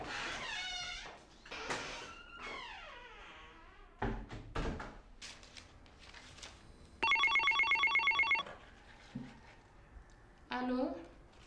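Telephone bell ringing in a short repeated burst at home, loud and close, with people talking before it and a door-like thunk and brief sound after.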